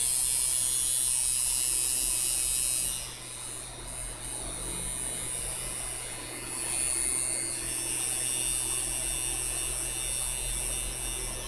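A small electric machine running at 6.7 volts gives a steady, loud buzzing hum that dips briefly around three seconds in before settling back to a constant drone.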